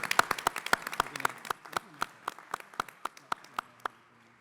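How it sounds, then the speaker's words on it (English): Applause at a county meeting on homeless services and behavioral health, clearly separated hand claps from a small group in a hall, starting dense and gradually thinning to a few slower claps. "I think they deserve a round of applause."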